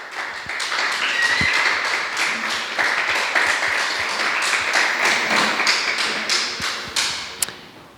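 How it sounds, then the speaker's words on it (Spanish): A church congregation applauds during a service, with loud, sustained clapping from many hands and a few sharp taps and thumps mixed in, easing near the end. "Aplauso al Señor."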